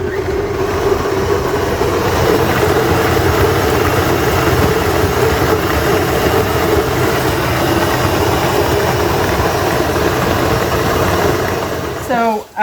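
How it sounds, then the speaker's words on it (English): A KitchenAid stand mixer with a grain grinder attachment grinds wheat into flour, a steady close motor drone with a gritty grinding rumble that runs unbroken until a brief stop at the end. "So this is just a grinder that is made for the KitchenAid."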